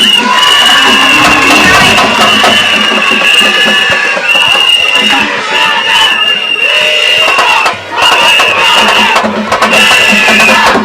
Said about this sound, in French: Je vous demande tous de l'applaudir.